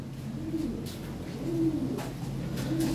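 Low, rolling coos of fancy pigeons repeat a few times against a steady background hum, close and fairly soft.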